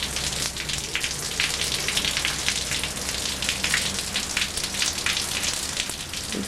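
Steady rain falls on a wet winter day, a continuous dense patter of drops hitting the surface close by, with no talk over it.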